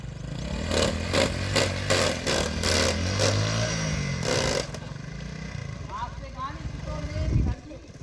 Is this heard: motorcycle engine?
yes